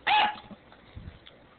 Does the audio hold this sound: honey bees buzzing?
no